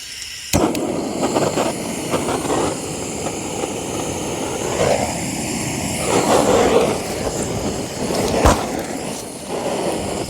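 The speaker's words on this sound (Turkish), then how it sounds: "Bunun içine torpil atacağız. En son patlatacağım bunu." Two sharp firecracker bangs inside a refrigerator, one near the start and one toward the end, over a steady rushing background noise.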